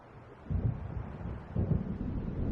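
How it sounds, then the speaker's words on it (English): Low rumbling thunder of an approaching storm in the video game Alan Wake, two rolling booms about a second apart over a steady windy backdrop. "It seems there's a storm coming."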